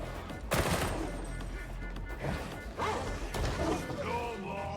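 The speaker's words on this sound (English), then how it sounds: "That barrel's gonna explode!" Explosion of a barrel in a video game, a sharp crash near the start followed by crackling debris and further impacts over a steady background rumble, with voices heard faintly.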